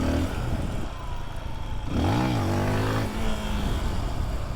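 A motorcycle engine revs up and settles back to idle in first gear, its rising and falling whine rough and close, with a steady mechanical rumble underneath throughout.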